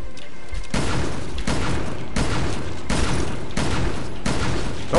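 Gunfire in Resident Evil Revelations 2 co-op raid mode, a loud, evenly spaced series of about six heavy booming shots, each with a dense decaying tail, close and continuous.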